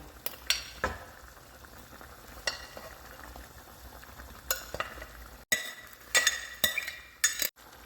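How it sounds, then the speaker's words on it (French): Swiss chard cooks in a pan with a soft, steady sizzle. A spoon scrapes and clinks against the pan now and then, and the stirring gets busier toward the end. No one speaks. "je vais laisser mijoter"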